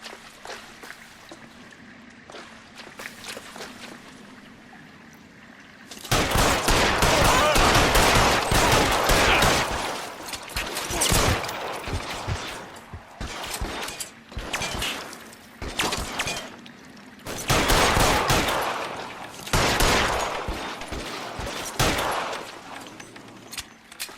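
Gunfire in the video game L.A. Noire: long, loud bursts of rapid shots with breaks in between and some shattering debris, rising after a quieter stretch with low background noise.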